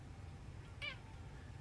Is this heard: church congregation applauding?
no